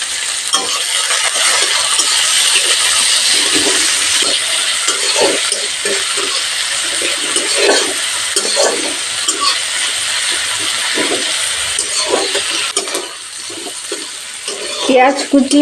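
Chopped onion, green chilli and garlic fry in a pan with salt, giving a steady bright sizzle throughout, broken by the soft scrape of stirring and a voice talking over it.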